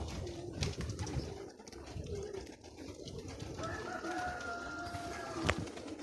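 Pigeons cooing in soft, repeated calls among other birds, with occasional knocks and rustles nearby.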